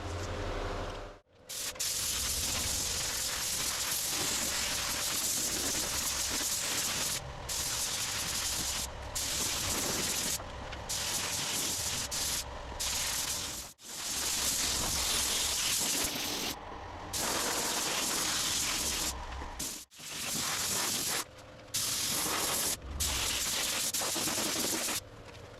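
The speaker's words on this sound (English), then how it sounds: "apply the primer with the gun" A spray gun lays resin coat primer onto the rear cover frame of a rare Volkswagen oval beetle truck, with cardboard shielding nearby: a loud, steady hiss in long bursts broken by brief pauses.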